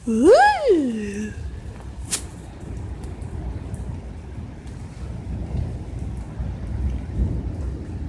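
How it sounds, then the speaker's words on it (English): A thunderstorm with steady rain and low rumbling, plus a sharp crack partway through. A rising-and-falling whistle-like sound is heard at the start, and the rain patters on continuously. "Just like this thunderstorm just peeked out."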